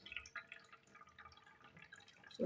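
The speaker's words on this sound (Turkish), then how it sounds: "geçmeden doldurduğumuz 5 litrelik litonumuzdan suyu filtreleme haznesine döküyorum arkadaşlar" Water from a 5-litre jug pours into the filter reservoir of a Brita pitcher, a soft steady splashing trickle that swells louder in the last moment.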